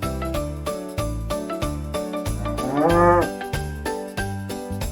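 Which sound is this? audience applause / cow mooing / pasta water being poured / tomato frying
cow mooing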